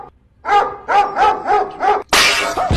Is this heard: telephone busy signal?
no